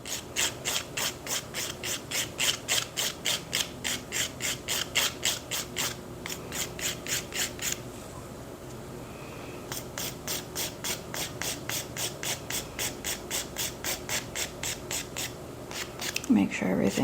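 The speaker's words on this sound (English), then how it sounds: "I'm just going to shape finish file with my hand file." A hand file shapes hard gel nails with rapid rhythmic rasping strokes, close and steady, pausing briefly midway before resuming at the same even pace.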